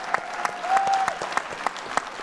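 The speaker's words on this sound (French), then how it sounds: "Vous pouvez applaudir et vos professeurs, et tout le personnel administratif, et vos parents" Audience applause at a diploma ceremony honoring teachers, administrative staff and parents: steady dense clapping from a crowd throughout, with a few sharper individual claps standing out and a brief faint whistle-like tone partway through.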